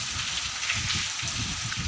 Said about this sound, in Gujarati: અત્યારે પણ જુઓ સારામાં સારો વરસાદ આવે છે